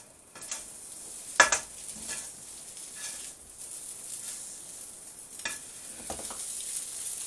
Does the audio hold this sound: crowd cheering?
no